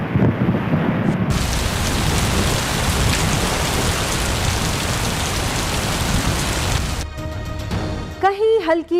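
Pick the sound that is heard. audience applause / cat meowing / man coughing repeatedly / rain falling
rain falling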